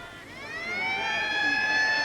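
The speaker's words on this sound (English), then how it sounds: "The half-time siren sounds" At a 1990 rugby league match between Canterbury and Great Britain, the half-time siren wails, rising in pitch and holding a loud, sustained tone for about two seconds over stadium background.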